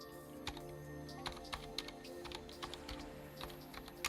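Fingers type on a computer keyboard in quick, irregular bursts of close, crisp key clicks with short pauses, and no one speaks.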